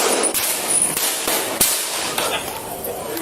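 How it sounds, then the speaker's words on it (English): A single sharp gunshot cracks out once, midway through, during an armed standoff as Houston police arrest a suspect wearing a bulletproof vest, over a steady background hiss and faint voices. "One shot fired."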